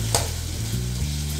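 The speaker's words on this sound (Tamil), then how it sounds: "இந்த எண்ணெயெல்லாம் மேலே தனியாக வர அளவுக்கு நம்ம நல்லா திரட்டி விட்டுக்கிட்டே இருக்கணும்." Pepper chicken curry with ginger, garlic and black pepper sizzles in oil in a pan while a spoon stirs and scrapes it, a steady close frying hiss broken by short stirring scrapes.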